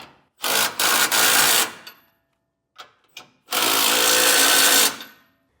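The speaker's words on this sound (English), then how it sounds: "you can come back with a 3/4 inch socket and snug them down" A socket tool snugs trailer hitch bolts on a 2020 Ram 1500 Classic: two long, loud whirring bursts, with a couple of short clicks in the gap between them.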